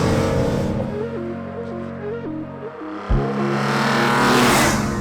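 G80 BMW M3 engine revving through several short acceleration bursts, loud and close, with rising and falling harmonic tones, a brief drop near three seconds, then a strong renewed pull, no talking.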